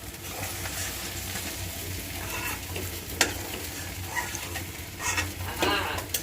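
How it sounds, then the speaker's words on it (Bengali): Fish frying in pure mustard oil gives a steady, close sizzle and foamy crackle, with occasional scraping and stirring noises from a utensil in the pan. "আমার মাছ ভাজা হয়ে গেছে, এখন আমি মাছগুলো নামিয়ে ফেলবো"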